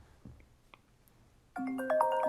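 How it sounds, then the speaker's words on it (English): A phone ringtone from an incoming call during an evening meditation session, starting after a quiet stretch as a bright, fairly loud melodic chime pattern that keeps playing. "Someone's trying to call me, I'm sorry."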